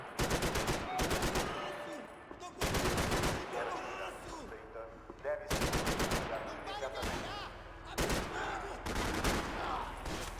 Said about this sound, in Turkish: Son mermiyle onu vurdum ya bir de